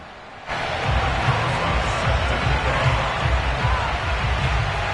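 A sold-out stadium crowd in the Madden 22 video game, with New England Patriots fans awaiting the Kansas City Chiefs, swells in after a quiet start into a constant, dense roar of cheering that holds loud and steady.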